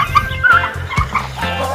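Chickens fed a processed banana-stem mash cluck close by in short, rapid bursts, several birds overlapping in a loud, busy chatter.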